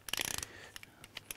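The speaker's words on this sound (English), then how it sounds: "as soon as the torque wrench clicks down, we can move on to the next bolt" A torque wrench ratchets in a quick run of sharp clicks while a cylinder head bolt is tightened, followed by a few sparser clicks, close and fairly quiet.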